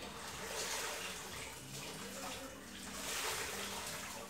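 Water runs in a steady, faint gush, like a tap left on during household cleaning, with soft background voices beneath it.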